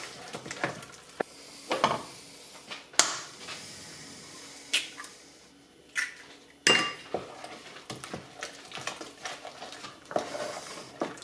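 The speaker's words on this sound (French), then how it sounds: "Et on va mélanger à chaque fois." Salmon panade for quenelles being mixed in a bowl as eggs are beaten in one by one, giving soft scraping and stirring with scattered sharp clinks and knocks of a utensil against the bowl at irregular intervals, close and fairly quiet.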